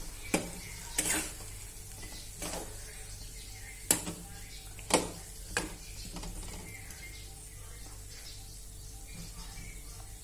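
Eggplant and potato pieces frying in oil for masala vangi, with a steady low sizzle under occasional sharp clinks and scrapes of a spatula or ladle against the pan, close by.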